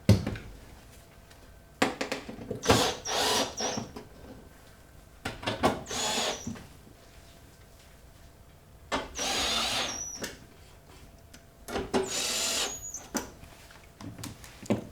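A power tool tightens the door screws on a dishwasher during a repair, whirring in short separate bursts with pauses between them, close and fairly quiet.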